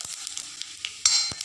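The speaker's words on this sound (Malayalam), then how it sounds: "ഇനി നമ്മൾക്ക് ഇതിലേക്ക് ഈ ജീരകം ആയമോദം ഒന്നിച്ചിട്ടുള്ളൂ." Cumin and ajwain roast in a pan with a faint, light sizzle and a few soft scraping stirs, close and quiet, with no one talking.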